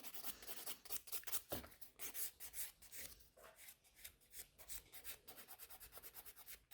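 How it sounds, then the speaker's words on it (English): A nail file rasps back and forth across a fingernail during a salon manicure, giving quiet, rapid, rhythmic scratching strokes close to the listener, steady throughout with no talking. "this way we are filing the entire nail"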